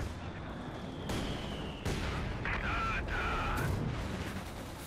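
Mortar fire in the Company of Heroes 2 strategy game, booming blasts from a German mortar crew amid a steady rumble of battle, with a couple of sharp impacts and whistling shells over continuous low noise.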